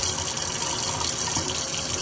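Hot water runs hard from a kitchen tap as a pot fills for pressure canning beans, a steady, loud, continuous hiss and gush with no pause and no talk.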